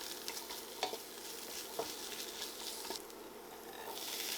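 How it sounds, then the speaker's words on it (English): Onions, garlic, walnuts, spices and tomato paste sizzle in a little oil in a pan while a spoon stirs them. The steady frying hiss is broken by occasional scraping knocks of the spoon, close up, with no one speaking. "start by sauteing the onions and garlic in a little oil until softened, and then add the walnuts and the spices, tomato paste, and give it a good stir"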